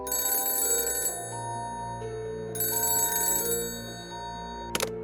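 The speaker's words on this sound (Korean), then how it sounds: "그러던 어느 날 화이트는 한 통의 전화를 받게 되는데" A telephone bell rings in two long bursts with a pause between, loud and close, ending with a short sharp click.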